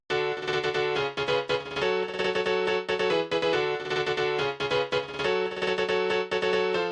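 FL Keys piano in FL Studio plays an ultra fast chopped chord progression for a J-pop track, with bright staccato chord stabs in quick rhythmic bursts and brief gaps, loud and alone.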